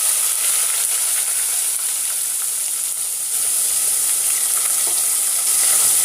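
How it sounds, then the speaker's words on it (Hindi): Spices crackling and sizzling in hot oil during home Indian cooking, a steady dense frying hiss with fine crackles throughout, close and continuous with no talking. "अब ये क्रैकल हो जाएगा"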